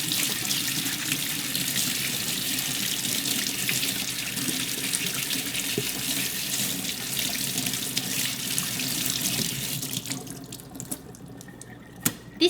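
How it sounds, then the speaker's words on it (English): A kitchen tap runs steadily while food is washed under it for kimchi dumplings, a continuous close splashing stream that stops near the end, leaving a few drips and clinks. "like this running water"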